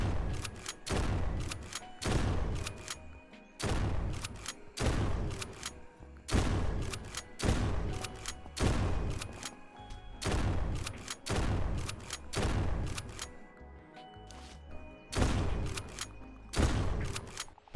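Exterminator gun firing repeatedly in the zombie survival video game Surroundead, heavy booming blasts in a rapid, roughly regular series across the whole stretch, loud and close.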